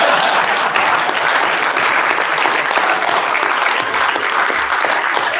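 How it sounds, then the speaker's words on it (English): A large audience gives continuous loud applause for World War II Iwo Jima veteran Woody Williams, a dense, sustained wash of clapping with no pause. "big round of applause for Woody Williams"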